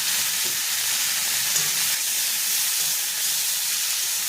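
Cauliflower and potato frying in a pan, a steady close sizzle with a faint background hiss that holds evenly throughout.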